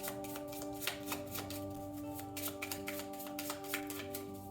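Tarot cards being shuffled at a steady, soft, close pace, with a quiet run of light riffling flicks sounding over a faint background hum.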